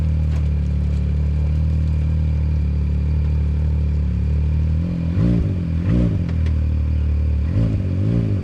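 An off-road vehicle backs slowly over rough ground near Black Mountain, its engine rumbling loudly and steadily, with clattering jolts from the suspension and body breaking through twice near the end.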